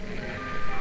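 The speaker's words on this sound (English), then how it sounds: "sorry about that beeping. That is my Far Cry app that I've just downloaded." Electronic beeping from the Far Cry mobile app on a phone plays over the sound of the Far Cry game, a short, steady, moderately loud tone sequence with no talking.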